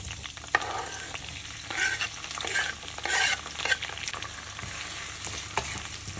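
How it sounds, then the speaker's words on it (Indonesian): Shallots and kaffir lime leaves sauté in a pan with a steady sizzle, broken by surges of hissing and scraping stirs every second or so, close and moderately loud, with no voices. "Jadi kita tumis dulu 2 bawang dengan daun jeruk"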